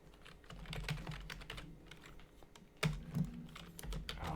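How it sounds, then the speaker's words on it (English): Steady, rapid typing on a computer keyboard, close by, with clustered keystrokes and a few louder clacks partway through. "Sorry about my typing."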